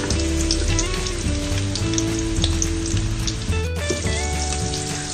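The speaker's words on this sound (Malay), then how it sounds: "Tumis sehingga bawang putih dan bawang besar menjadi harum." Steady, dense sizzle of onion and garlic frying in hot oil, continuous and close, with occasional faint clinks and stirring beneath the crackle.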